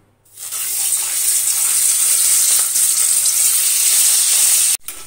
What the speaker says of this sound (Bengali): কড়াই আমি বসিয়ে দিয়েছি মাছগুলো ভাজবো বলে তো মাছগুলো ভেজে নিয়ে আমি আবার ফেরত আসছি